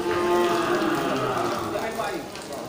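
An Aceh-Bali crossbred cow at a cattle market lows in a long, drawn-out moo over outdoor background noise, with faint voices nearby.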